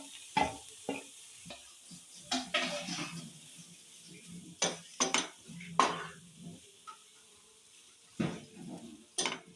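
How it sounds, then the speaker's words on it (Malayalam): Carrots and other vegetables for pasta being stirred in a hot pan: quiet sizzling broken by repeated scraping strokes and clinks of a spoon against the pan. "അപ്പോൾ നമുക്കിതൊന്ന് വഴറ്റി കൊടുക്കാവുന്നതാണ്"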